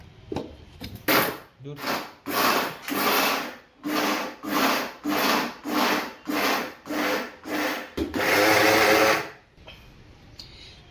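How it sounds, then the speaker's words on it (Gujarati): A mixer grinder whirs loudly in about ten short, rhythmic pulses, then runs in one longer continuous burst before stopping, grinding lentils and gathiya into powder. "મિક્સરમાં ભૂકો કરી નાખીએ."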